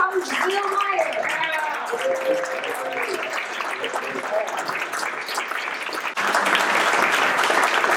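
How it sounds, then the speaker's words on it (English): Awards-event audience in Michigan applauding steadily under a speaker's talk, with the clapping growing louder and denser near the end. "And now you keep clapping"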